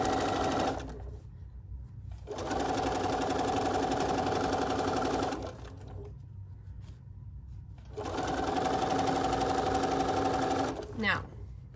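Sewing machine stitching a fabric needle book in two long steady runs with pauses between, loud and close with a mechanical whir, while a person talks through the work.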